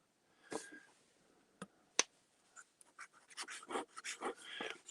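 A wet, flexible-nib fountain pen scratches across paper at a desk in close, quiet strokes, with short irregular scrapes and flicks that get busier toward the end.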